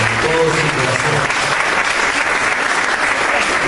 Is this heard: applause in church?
yes